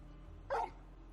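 A single dog in Final Fantasy XVI gives one short, sharp bark, close and fairly loud, over a faint steady background hum.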